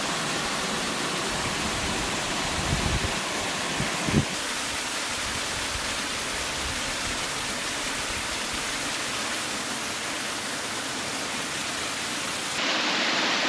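A small waterfall on Andros island in the Cyclades roars as a steady, broad wash of falling water, close and continuous, with a few soft thumps early on.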